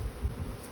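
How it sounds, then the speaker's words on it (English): Bees from a swarm buzzing in a tree, a soft continuous hum heard at a distance, faint and steady through the short stretch with no voices. "it's not that many more bees in the tree, are there?"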